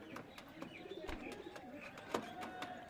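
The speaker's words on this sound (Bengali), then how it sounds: "এটা মাদা পায়রা" A female pigeon of the Madras breed, kept in a loft, coos softly and repeatedly, faint and close, with light bird chirps and quiet rustling around it.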